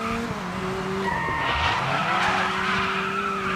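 A car in the Dirt 5 racing game skids and spins out after clipping another car's rear tyre, with sustained tire squeal and wavering screeching tones over a steady engine roar, loud and continuous throughout.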